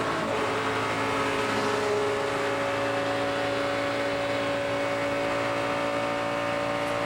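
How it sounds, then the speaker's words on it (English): A 2012 NASCAR Nationwide Series race car engine at the DRIVE4COPD 300 practice, a steady loud drone with strong engine harmonics as the driver lifts off the throttle, heard continuously and close throughout. "Sounded like you could hear it was either Cole Whitt or Danica Patrick getting out of the throttle"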